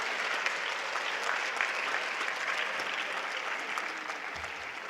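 An audience claps for families at a high school National Honor Society induction ceremony. A dense, sustained round of applause fills the hall at an even level for about five seconds.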